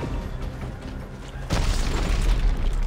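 A heavy boom from a rocket launcher explosion in Dead Space 3 lands halfway through, a broadband blast that lifts the loud, rumbling game soundscape and keeps it dense afterward, with no talk.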